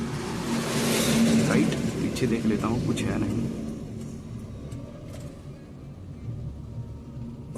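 A Maruti Alto VX car reversing on a highway gives off a low engine rumble, louder at first and then easing, under someone talking throughout.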